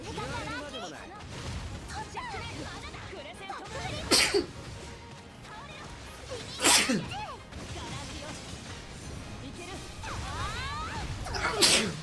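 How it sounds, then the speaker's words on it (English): A character in the video game Atelier Yumia sneezes loudly three times with short pauses between them. The sneezes sit over busy game sound effects and a voice talking. "Stop sneezing. Why are we sneezing?"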